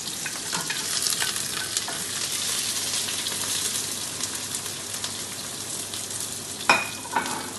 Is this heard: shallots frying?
yes